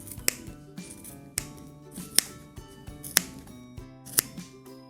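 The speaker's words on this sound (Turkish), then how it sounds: "Aradan bu aparatı bırakmadan bu şekilde kesiyorum." Scissors snip through craft material for a colourful door decoration, five crisp cuts spaced about a second apart, close and clear with soft rustling of the material between them.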